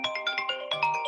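A mobile phone ringtone plays a quick series of bright electronic chime notes in a repeating rhythmic pattern, fairly faint and alone, without talk over it.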